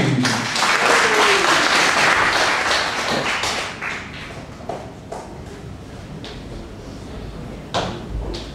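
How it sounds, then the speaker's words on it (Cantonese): Audience applause welcoming a guitarist at a casual singing gathering, a dense burst of clapping that fades over a few seconds into scattered claps and small knocks and shuffles. "熱烈嘅掌聲歡迎！"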